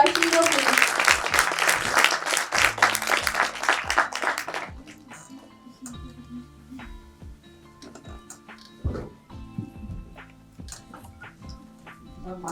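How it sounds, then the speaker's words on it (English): Loud applause from an event audience greets a guest speaker at a launch event, a dense burst of clapping for about four seconds that stops abruptly, followed by quiet room noise with scattered faint taps and shuffles. "Can we have a loud round of applause for our hero, please?"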